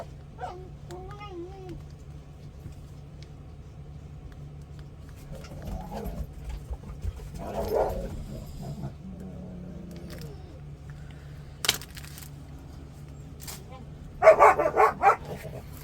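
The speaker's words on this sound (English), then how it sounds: "Sorry about the dogs playing." Dogs playing indoors give scattered barks and yips, a few louder bursts near the end, amid quiet room noise and low hum.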